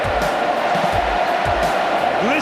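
Roaring football stadium crowd cheering for Stephen Milne, a loud sustained wall of voices with a few deeper swells, close and continuous with no break.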